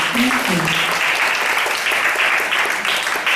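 An audience claps steadily at an event about preventing child abuse. The dense applause stays loud for the full few seconds, and a faint voice briefly rises underneath near the start.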